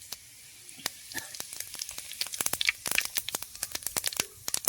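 Fennel seeds hit hot oil in a frying pan at the start of a crab gravy. Sharp, close crackles and pops come in rapid, irregular bursts that grow denser over a soft steady sizzle.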